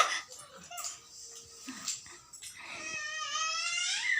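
A dog in a village home whimpers and yips close by, with short thin cries and then a long rising, wavering whine toward the end, heard over quiet surroundings.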